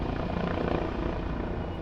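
A helicopter in flight makes a steady, loud rotor thrum and engine roar that carries on without a break and is heard alone.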